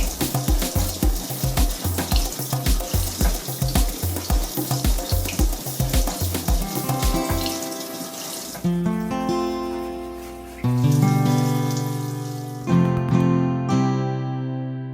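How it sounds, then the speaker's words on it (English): Running tap water while washing winemaking equipment, a loud continuous splashing stream with rhythmic sloshing, then changing to a filling, ringing pour as a vessel fills. "Begin the winemaking process by washing and sterilizing the winemaking equipment."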